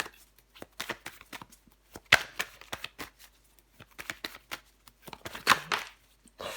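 Tarot cards drawn and laid out on a table, a run of soft papery slaps and slides at close range with a few sharper snaps, alone without talk.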